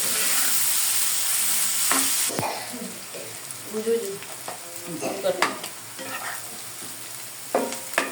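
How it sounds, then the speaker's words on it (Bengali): Onions fry in a pan with a loud hissing sizzle that fades after a couple of seconds into softer crackling, punctuated by scraping and stirring of a spatula against the pan. "পেঁয়াজটাকে ভালো করে আমি ভেজে দিব"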